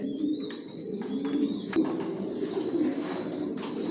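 Racing pigeons coo steadily inside a loft where breeding pairs sit on eggs, a soft continuous low cooing with faint chirps and a few brief wing flaps nearby.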